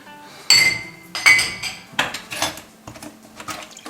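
Dishes being loaded into a dishwasher at home: several sharp clinks and clatters of plates, glass and cutlery, close and loud, coming in irregular bursts and fading off, with no talking.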